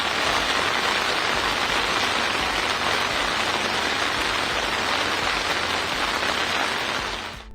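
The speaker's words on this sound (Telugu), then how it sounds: "అస్సాంలో భారీ వర్షాలతో ప్రజలు అతలాకుతలమవుతున్నారు." Heavy monsoon rain pours steadily during the Brahmaputra floods in Assam, a dense, continuous hiss of drops striking surfaces, loud and unbroken with no voices.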